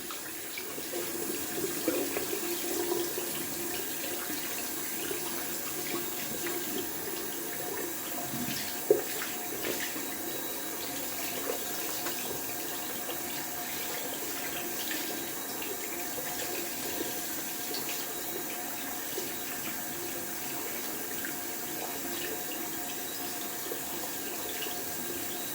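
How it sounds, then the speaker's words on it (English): Running tap water rinsing a shaving brush at a sink, a steady continuous broadband splashing flow with a brief brighter knock partway through, close and alone with no talking. "We're gonna wash out the brush here."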